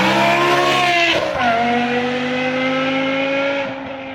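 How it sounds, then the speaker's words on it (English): A modified BMW engine revs hard and loud up close, a strong harmonic roar that climbs and then drops sharply before settling into a lower drone that fades near the end. "It don't sound like a regular fast. Oh, it doesn't sound like a regular Beamer."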